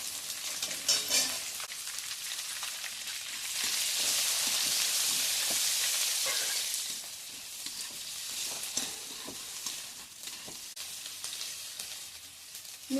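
Finely chopped onion hits hot oil in a pan that has just fried cashews and almonds for a wheat dalia pulao, giving a loud, steady sizzle that swells in the middle with occasional stirring clatter and no talking.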